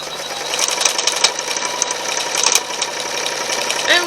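An embroidery machine starts tracing the hoop outline for a mug rug, a steady close mechanical rattle and hum with brief clacks throughout.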